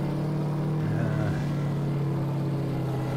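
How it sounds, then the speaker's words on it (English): Steady engine drone of a vehicle from a Farming Simulator 19 mod, a constant loud hum with a slight rise in revs early on, running alone with no talk. "he needs to reduce the volume slightly on the engine sound, I think"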